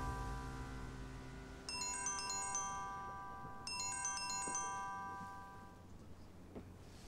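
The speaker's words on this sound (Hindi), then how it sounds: "तुम्हारा फोन बज रहा है।" An electronic ringtone plays a bright, repeating melodic pattern, sounding twice in quick bursts over a soft sustained tone, fairly quiet and close.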